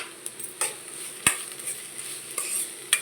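Ridge gourd frying in a pan for a sesame-powder fry, with a quiet steady sizzle broken by several sharp utensil scrapes and clicks as it is stirred.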